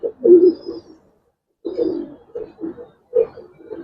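Old racing and coloured Giribaz pigeons coo close by in three low, throaty bursts separated by short pauses, with no voices.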